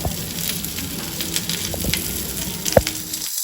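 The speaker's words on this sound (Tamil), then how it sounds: "அதே இதில் 1 இன்ச்சு வெண்டைக்காய் கட் பண்ணி வச்சுருக்கதை போட்டு நம்ம ஃப்ரை பண்ணி வச்சிடலாம்" Okra pieces frying in a pan give off a soft, steady sizzle, with scattered small crackles and one sharper pop near the end before it cuts off.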